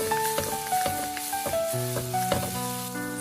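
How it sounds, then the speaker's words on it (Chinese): Eggplant sizzles and crackles as it is stir-fried quickly in a wok over high heat, steady frying hiss broken by repeated spatula scrapes and clinks, with a tonal ringing hum running underneath. "茄子加进来以后，开大火，快速的翻炒，翻炒均匀"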